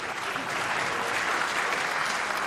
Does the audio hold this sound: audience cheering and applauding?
yes